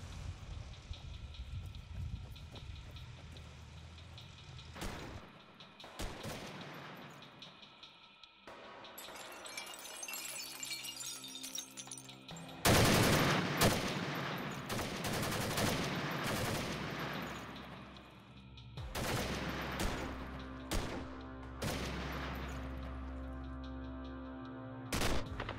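Gunfire crackles during close-quarter fighting in Chechnya, with scattered shots and bursts, some sharp and near, others more distant, over wind noise and rumbling background sound.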